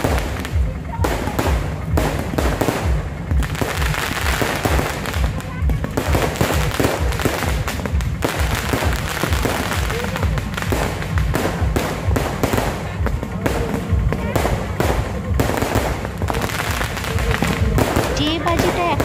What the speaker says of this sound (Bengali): প্রচুর বাজি এনেছে, এখন আমরা বাজি ফাটাচ্ছি।